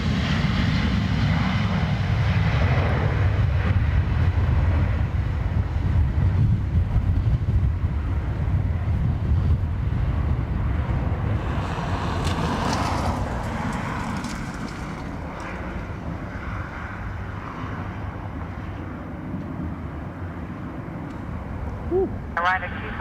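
A jet at Dublin Airport on a windy day starts its takeoff roll, a loud, steady engine roar with wind rumble that slowly eases as it moves away, while a radio voice talks in the background.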